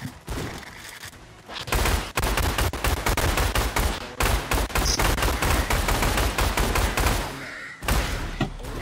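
Rapid, repeated shotgun blasts fire at dinosaurs in the video game T.D.S: Dino Horde, loud dense bursts in quick succession with brief pauses between volleys.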